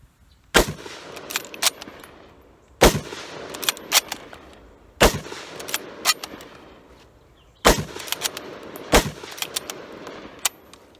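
Lee-Enfield No. 5 Mk I jungle carbine rifle firing outdoors, four loud sharp shots spaced a couple of seconds apart, each followed by bolt-action clatter and ringing echo.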